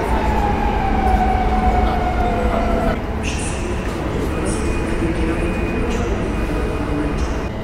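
A train draws into a station platform in Poland with a steady heavy rumble and whining tonal drones, and bright metallic squeals and hisses in the second half.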